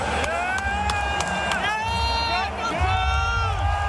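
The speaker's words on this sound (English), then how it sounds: "Oregon State fans were cheering when WSU took down Wisconsin earlier this month." Oregon State fans cheering at a football game: a steady, dense crowd roar with shrill rising whistle-like tones and overlapping voices throughout.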